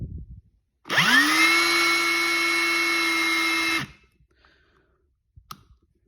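An Ingersoll Rand W5153 cordless impact wrench runs forward in one loud, steady whir of about three seconds that spins up quickly and stops, followed by a faint click.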